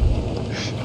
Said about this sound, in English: Oh, lightning.